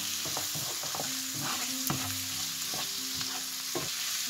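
Meat and onions for a Moroccan pastilla are stirred in a hot pan, a spoon scraping and knocking in irregular strokes over a steady close sizzle, with no talk.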